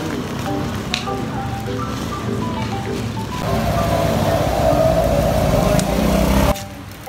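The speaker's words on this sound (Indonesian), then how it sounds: "Kita hujan-hujanan naik becak." Rain falls during a pedicab ride through Jogja, a steady hiss of drops on the canopy with a motor droning underneath that grows louder halfway through.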